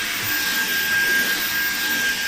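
Dyson V11 Absolute cordless stick vacuum running in boost mode, a loud, steady, high-pitched motor roar with a constant whine, close and continuous throughout.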